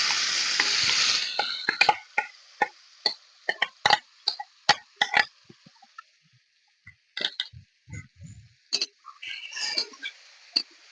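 Marinated cauliflower hits a hot pan with a burst of sizzling frying, followed by a string of sharp scraping and clicking stirs from a utensil, close up and uneven in rhythm, with the sizzle fading between strokes.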